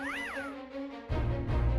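Two cats at a window of a forest cabin watching heavy snowfall, one giving a clear rising-falling meow near the start, followed by softer mews and low rumbling household noise.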